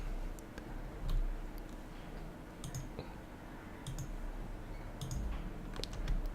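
Sparse, faint computer mouse clicks, about five single clicks spread out, while working in 3D car-part surfacing software, over a quiet room hum.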